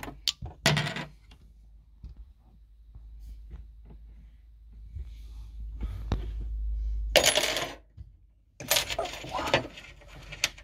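Coins are handled in a garage, with scattered metallic clinks and clicks followed by louder bursts of rustling and jingling close by. No one speaks.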